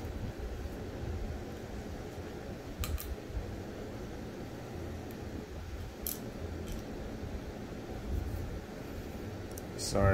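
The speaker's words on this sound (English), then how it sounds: "Sorry for the AC noise if you can hear it." An air conditioner runs with a steady, low, broadband whoosh that holds constant throughout, with a few faint clicks and ticks on top.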